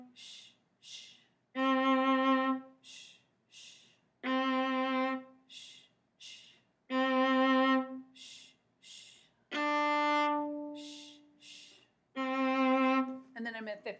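Viola playing an Allegretto excerpt: short sustained bowed notes separated by rests, with a voice making soft hushing sounds in the gaps between phrases.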